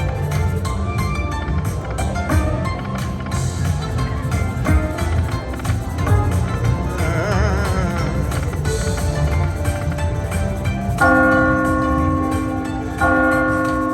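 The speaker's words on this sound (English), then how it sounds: "Love the sound of those bells" Bells ring out over a busy, dense mix of other sound, with clear sustained tones standing out toward the end.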